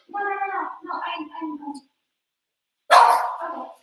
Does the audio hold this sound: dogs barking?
yes